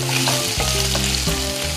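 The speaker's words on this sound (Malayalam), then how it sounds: "ഇത് നമ്മൾ ഇതിൻ്റെ ഒന്ന് ഫ്രൈ ചെയ്തെടുക്കണം. ചെറുതായി ഇളക്കിക്കൊണ്ടിരിക്കണം." Kerala-style pork pieces fry in rendering fat in a pan, a steady loud sizzle broken by scraping stirs, with no talking.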